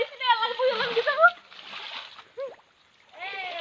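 Water splashes and sloshes in a drained fishing pond as someone dives in, heard near and under loud overlapping shouting voices.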